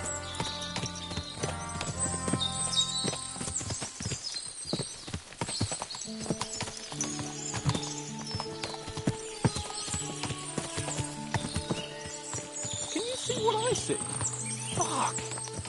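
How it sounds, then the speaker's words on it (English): Many horses in the medieval open world of Kingdom Come Deliverance 2 fill the scene with steady clip-clop hoofbeats, occasional whinnies and ambient music and effects, continuous and fairly close throughout. "What a lot of horses!"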